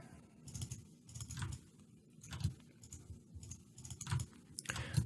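Quiet, rapid clicking of a computer mouse being double-clicked repeatedly at a desk, soft irregular pairs of clicks over a low background hum, with no talk.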